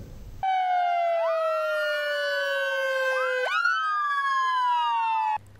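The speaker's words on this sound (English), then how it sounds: "With sirens blaring, a convoy of 9 police vehicles pulled up at the police training center in Kuala Lumpur yesterday" Sirens from a convoy of nine police vehicles arriving at a police training center in Kuala Lumpur blare together, several overlapping wails gliding up and down at once, loud and steady for about five seconds.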